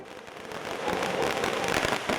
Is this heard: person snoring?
no